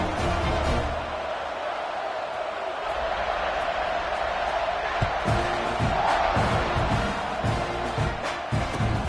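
A football stadium crowd roars steadily before kickoff, a dense wash of cheering and shouting with scattered thumps and bursts, loud and continuous, with a commentator's voice faintly under it.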